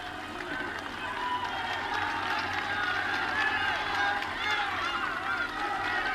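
A large roadside crowd cheers riders at the Tour de France in Brittany, a steady roar of voices and clapping that swells and fades, with a commentator talking over it.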